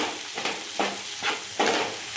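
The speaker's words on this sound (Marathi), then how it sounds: "मंद आचेवर मसाला भाजून घ्यायचा आहे।" Masala and tomatoes fry in a pan over low heat, with a soft, steady sizzle broken by four distinct scraping stir strokes of a spatula at roughly half-second intervals, close up, with no talk.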